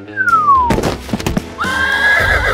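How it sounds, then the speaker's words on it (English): A horse in a comedy sketch neighs loudly and close, a high whinny sliding down, followed by thumping hoof sounds and a second drawn-out squealing whinny. "My horse has been found!"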